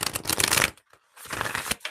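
Oracle cards, an angels and ancestors deck, shuffled in two loud bursts of riffling and flicking separated by a brief pause, close and alone.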